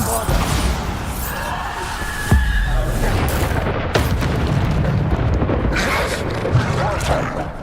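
A Bombarda explosion spell cast in the video game Hogwarts Legacy, heavy booming blasts and crashes over a loud, continuous game mix, with a voice shouting over it.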